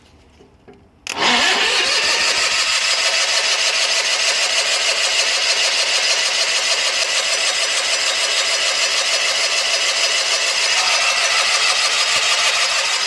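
A Sears Suburban SS16 garden tractor engine, running off a booster, cranks briefly and then catches, settling into a loud, steady idle that runs without a break under no talk.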